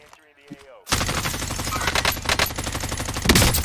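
Rapid gunfire from a high-capacity Jak-12 shotgun in Call of Duty Warzone, a dense, loud, continuous burst of shots that kicks in abruptly after a quiet moment, with players talking over it.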